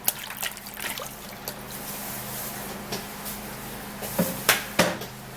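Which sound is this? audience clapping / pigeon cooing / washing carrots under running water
washing carrots under running water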